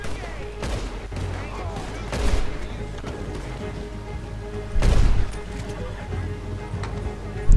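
Rapid bursts of Red Dead Redemption 2 gunfire over a steady rumbling background, with a couple of louder volleys standing out.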